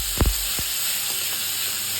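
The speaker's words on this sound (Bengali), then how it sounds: "এবার আমি পেঁয়াজটা দিয়ে দিলাম" Onion hits a pan of frying tomato with a loud, continuous sizzle, marked at the start by a couple of thuds and scrapes as it drops in and is stirred.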